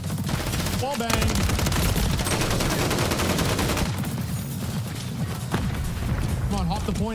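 Dense rapid gunfire from a multiplayer first-person shooter, XDefiant or Modern Warfare III, bursts loudly and almost continuously, with shots and impacts layered over game effects and a voice talking.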